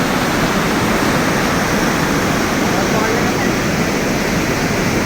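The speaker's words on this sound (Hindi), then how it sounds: "इतना पानी तो खुद को भी बहा सकता है।" Excessive river water roars through the Kosi barrage gates as a loud, steady, unbroken wash of rushing noise, close and continuous throughout.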